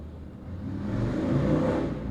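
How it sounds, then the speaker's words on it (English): A motorbike revs outside, a steady mid-pitched engine drone that swells toward the middle and holds, moderately near, with no talk over it. "that was a cheer from a motorbike outside"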